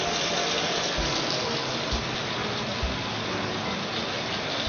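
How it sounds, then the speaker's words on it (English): Water runs from a kitchen tap in a steady, loud broadband gush that stays even throughout, close by, with a few faint knocks underneath and no talking. "Turn on the water."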